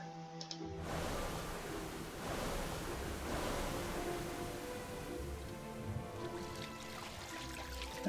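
A water drown attack spell in a video game: a broad, rushing wash like crashing surf that swells and holds for several seconds, with a steady musical drone running underneath.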